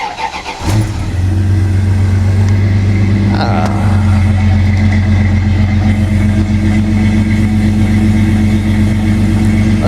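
A 3.9-litre car engine idles with jumper cables hooked up. After a short start it settles into a loud, steady, close rumble that holds for the rest of the stretch.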